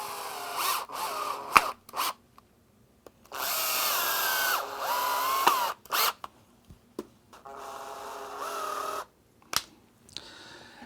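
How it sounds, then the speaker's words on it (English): A power drill drives screws through ceiling wallboard into a 1/4-inch plywood patch, with several loud close bursts of whirring motor, each rising under load before cutting off, separated by short silences and small clunks. "attach it by driving screws through the wallboard and into the wood"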